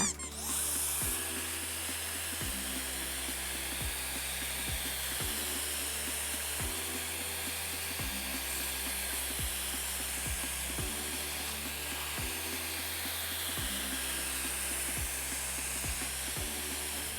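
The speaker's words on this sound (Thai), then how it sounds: "ต่อไปนะคะ จะทดลองเป่าฝุ่นบนคีย์บอร์ดกันค่ะ" A GXZ-F72 jet blower fan, a 130,000 RPM blow-and-suction unit, whines loudly and steadily at very high pitch as it blows dust off a keyboard, with periodic low pulsing underneath the continuous roar.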